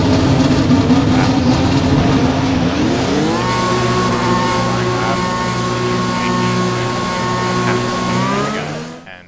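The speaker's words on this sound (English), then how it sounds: "Engine fired, we're set." Formula 1 car engine in the F1 2021 racing game, a loud sustained engine drone that shifts pitch upward after a few seconds and holds a steady high rev before cutting off at the end.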